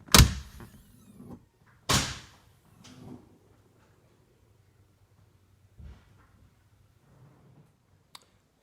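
Door of an exotic kit car being worked by its manual release lever in a garage, a few sharp latch clunks and rattles with quieter shuffling and clicks in between.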